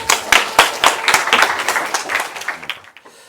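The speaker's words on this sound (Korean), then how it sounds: "힘찬 박수로 환영해 주시기 바랍니다." An audience claps warmly at a Korean entrepreneurship lecture, welcoming the CEO of LBStech to the stage; dense, close applause with sharp individual claps that gradually thins and fades out near the end.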